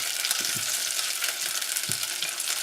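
Onion and capsicum sauté in oil for kadai paneer, with a steady bright sizzle under a few soft spatula clacks and stirring knocks.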